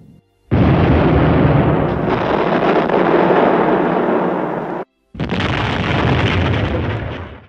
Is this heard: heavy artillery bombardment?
yes